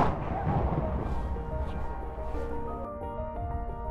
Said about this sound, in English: After a great day out in the water, you fire the cannon.